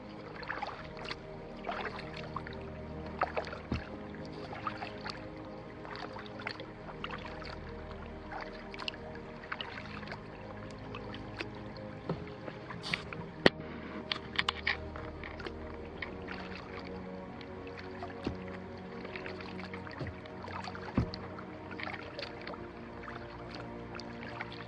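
Kayak paddling on the Santa Fe River in Florida, with soft, irregular water splashes and drips from paddle strokes over a steady ambient background throughout, no talking.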